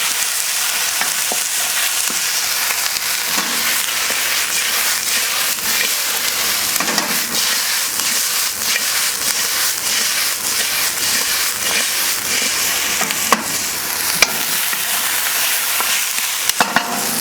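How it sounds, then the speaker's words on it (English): King prawns stir-fry on a Kamado Joe grill alongside onions and peppers, a loud, dense, unbroken sizzle with occasional spatula scrapes and clicks, close up and without speech. "get our prawns in. Give them a stir fry."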